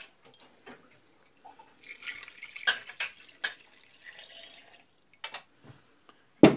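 Brine poured from a container over packed shredded cabbage in a crock for off-grid sauerkraut, giving a run of uneven splashing and trickling bursts that ends in a sharp knock, close by with no talk.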